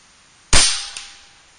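A single sharp crack from an Air Venturi Avenger .25 air rifle during a Field Target Trophy course, loud and close, with a faint after-click and a fading tail into quiet.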